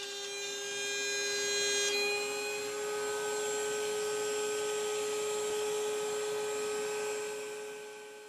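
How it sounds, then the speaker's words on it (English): A router table with a 5/16 inch bit cuts grooves into solid wood for box joints, a loud continuous whining drone that peaks early and then holds steady before easing off. "Now I'm using a 5/16 inch bit in my router table, and I'm going to do it in 2 passes"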